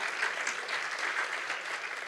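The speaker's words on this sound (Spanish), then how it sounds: "Denle un aplauso al Señor." A church congregation applauds together in worship, a steady continuous clapping that holds evenly throughout at moderate loudness with no voice over it.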